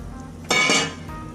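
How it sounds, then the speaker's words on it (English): Broccoli dropped into a pan of milk for broccoli cheese soup, one short clattering splash with a faint clink as it lands, then quiet. "I'm going to add all of my broccoli at this point."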